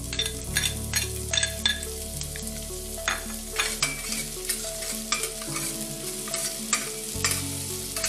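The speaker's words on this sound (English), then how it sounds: "Stir it" Indomie noodles with added pepper are stirred in a frying pan, with a low steady sizzle under repeated scraping and clinking strokes of the utensil against the pan at an irregular rhythm, close and clear, with no talking.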